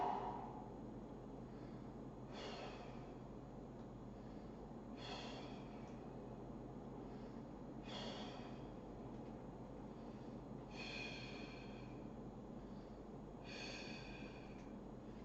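Slow, deep breaths come in about five quiet, evenly spaced cycles while a held strength exercise for cycling is done, set against a constant low background hum and with no talking.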